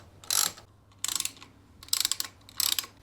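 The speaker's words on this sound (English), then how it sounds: "So I've only got 2 bolts here to undo." An Allen key ratchets out bolts on a Yamaha Tenere 700 sprocket cover, four short bursts of metallic clicking and turning separated by pauses, close and fairly quiet.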